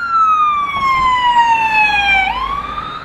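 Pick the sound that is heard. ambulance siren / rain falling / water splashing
ambulance siren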